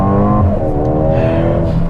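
A 2021 Mercedes-AMG GLA35 hot hatch with a dual-clutch gearbox launches hard from a standstill in Sport Plus mode, its engine rising loudly and close in a strong, steady climbing drone.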